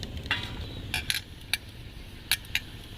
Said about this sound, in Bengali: তেল ঢেলে নিয়েছি তো এটাকে আমি ব্রাশ করে নিচ্ছি